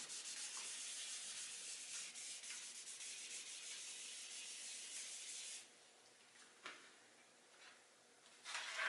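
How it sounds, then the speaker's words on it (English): Paper image transfer soaked with Citra Solv solvent being rubbed by hand, a steady close hissing scrub for several seconds, then quieter with a few brief rubs and a final burst of scrubbing. "and you rub the image. Making sure that the whole image is coated with the Citra Solv."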